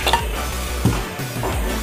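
A wok is set down on a gas stove in a home kitchen, giving a few metallic clunks and scrapes against the burner, close and clear over a faint steady hiss.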